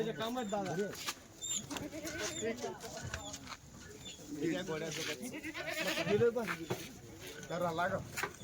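Kathiawadi goats bleat several times at a night goat sale, their wavering calls mixed with steady crowd chatter and nearby talking.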